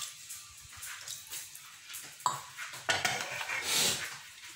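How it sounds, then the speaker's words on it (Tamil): A metal lid goes onto a cooking pot of goat intestine curry, with two sharp clanks near the middle among lighter pot and utensil clatter, close and fairly quiet, with no talking. "இப்போ ஒரு மூடி போட்டுவிடுவோம்."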